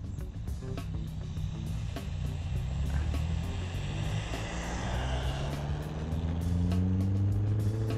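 An ARRMA Typhon Grom RC car with a stock brushed motor makes a full-throttle speed pass in a backyard, a steady high whine that rises in pitch and grows louder as it nears.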